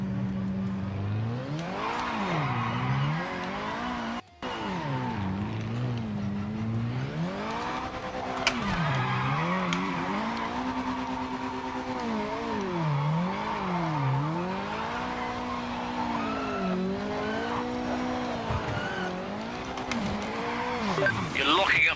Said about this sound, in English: You're locking up the tyres.